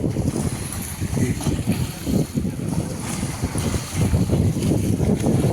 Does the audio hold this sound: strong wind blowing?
yes